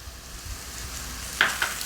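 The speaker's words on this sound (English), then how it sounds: "Mix that garlic in. Cook this for about 30 seconds." Garlic sautés with tender mushrooms and caramelized onions in a pan. The close, soft sizzle runs briefly, and one sharper utensil clink lands near the end.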